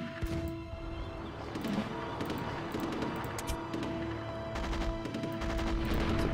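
Artillery bombardment pounding an entrenched redoubt in the strategy game Rise of Nations, a dense, continuous barrage of overlapping booms and crackling impacts with steady battle noise throughout.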